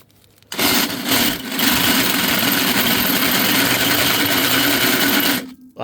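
A power drill bores into the lower control arm of a Humvee HMMWV being modified for a jack. Its loud, close motor whine starts abruptly, runs steadily for about five seconds, then cuts off.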